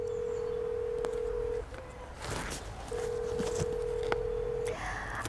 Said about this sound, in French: je fais le numéro